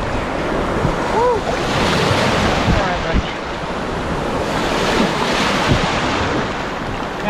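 Ocean surf breaks and washes along a beach during shore fishing, a continuous loud rushing roar mixed with heavy wind buffeting the microphone.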